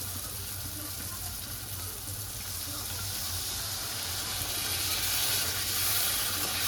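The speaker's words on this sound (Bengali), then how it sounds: "একদম জল দিয়ে দেবো।" Water splashes into spice masala frying for a pangas fish curry and sets off a steady, hissing sizzle that swells slightly louder toward the end.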